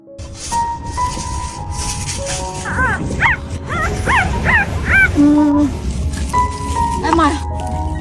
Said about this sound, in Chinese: 这个是个大狗，这个是小狗